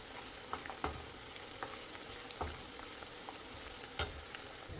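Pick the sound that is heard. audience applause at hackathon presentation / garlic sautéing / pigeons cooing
garlic sautéing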